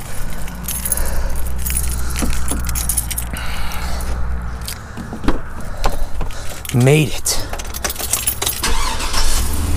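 Keys jangle in a steady metallic rattle as someone climbs into a truck after river fishing for lake whitefish, followed by a squeak and thuds, with a voice speaking briefly.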